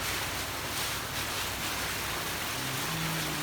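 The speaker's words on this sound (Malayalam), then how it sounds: "മഴ പെയ്തുകൊണ്ടിരിക്കുന്നു" Steady, dense hiss of rain falling continuously, with no voices and no breaks.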